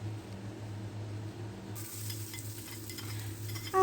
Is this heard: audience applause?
no